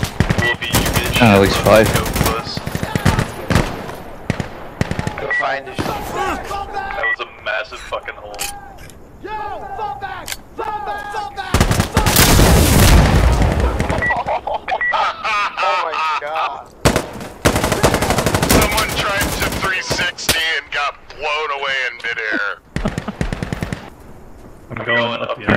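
Machine-gun suppressive fire in the video game Insurgency: Sandstorm, with long rapid bursts and scattered gunshots hammering loudly almost throughout, layered with frequent talking from players.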